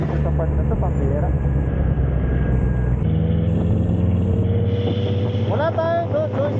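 A rider on a motorbike passes through heavy road traffic. Engines rumble steadily under strong wind buffeting, and a few brief higher-pitched vehicle sounds come through.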